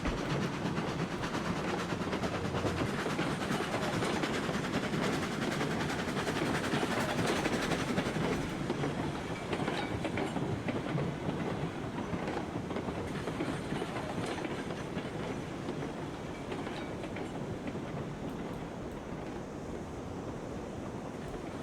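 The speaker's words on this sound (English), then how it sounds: "we are rolling into dock" A train rolls along rails in RailRoads Online, a steady loud rumble with rushing wind-like noise and faint clickety-clack, running unbroken for over twenty seconds with no talking.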